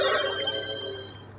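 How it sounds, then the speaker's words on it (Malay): A Mechamato Mechanizer toy powers on with a short electronic chime, bright sustained tones that ring out and fade over about a second, close and moderately loud, with no talking. "Mechanizer on. Dia dah on, dia akan bunyi macam ni."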